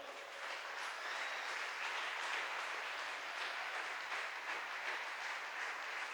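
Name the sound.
church congregation applauding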